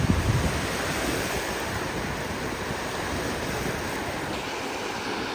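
Surf at Murudeshwara beach rolls in as a constant, loud wash of breaking waves, with wind buffeting the microphone and no talking.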